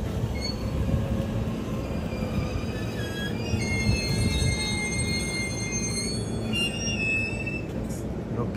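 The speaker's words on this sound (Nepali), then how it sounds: "अब ट्रेन आइहाल्छ" A train pulls into a station platform in Japan with a steady rumble, high wheel squeals and brake whines rising over the running noise, close and continuous.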